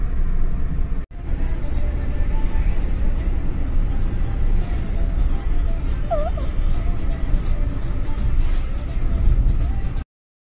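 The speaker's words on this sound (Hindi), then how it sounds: "मक्खन जैसे गाड़ी चल रही है अपनी" A car drives along a smooth road on the way to Mahasamund, giving a steady low rumble of engine and tyre noise from inside the cabin, with a brief tonal squeak in the middle.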